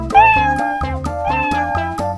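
A cat meows several times in a row, close and clear, each call a short tonal cry with a slight rise and fall, sounding alone without any talking.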